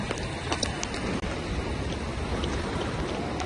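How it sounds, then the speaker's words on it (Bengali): Rough sea surf crashing at Cox's Bazar beach during rain, a dense, continuous roar of waves with wind buffeting the microphone, close and loud with no voices. "আর ঢেউ কিন্তু এখন প্রচুর উত্তাল"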